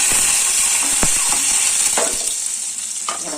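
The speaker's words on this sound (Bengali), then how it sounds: "আর রসুনটাও ফোড়নে দিচ্ছি। আচ্ছা একটু নেড়ে ছেড়ে" Garlic sizzles loudly in hot oil as a spice tempering, a bright steady hiss close by, with quick clicking spatula stirs and scrapes scattered through it and no talking.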